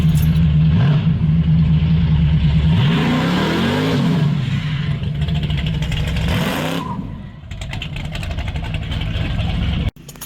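A Dodge Charger with a Hemi V8 cranks, fires up and revs several times, loud and close, its deep rumble rising and falling before settling into a rough idle, then a sudden cutoff near the end.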